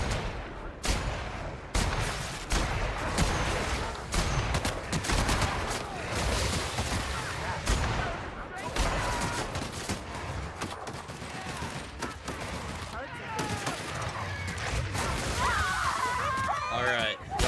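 Dense gunfire from The Outer Worlds video game, with rapid overlapping shots and bursts that crackle almost continuously, loud and close throughout, while someone talks over the combat.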